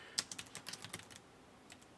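Quick bursts of clicking keystrokes on a computer keyboard, a rapid run of crisp taps that slows and trails off into a few isolated presses, close and fairly quiet.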